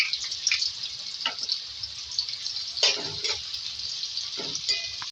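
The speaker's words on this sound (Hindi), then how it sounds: "मस्टर्ड ऑयल है, इसमें हम प्याज ऐड करेंगे, सरसों का तेल है ये" Onions fry in hot mustard oil for a green chili chicken dish, a steady close sizzle with occasional stirring scrapes and pops.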